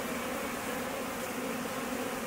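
Honey bees swarm around an overflowing hive, a dense, continuous buzzing drone close by, steady and unbroken with no voices.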